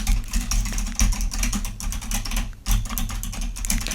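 Close, steady typing on a computer keyboard, a continuous run of quick key clicks with brief pauses and no speech.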